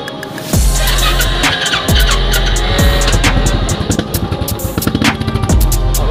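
A Royal Enfield Classic 350 motorcycle engine revs up and runs loudly and close by, with repeated throttle blips and a deep, thumping exhaust note throughout.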